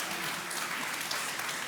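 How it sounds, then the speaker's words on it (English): A short burst of soft audience applause at a SXSW conference talk, an even patter of clapping heard from some distance. "Round of applause for that."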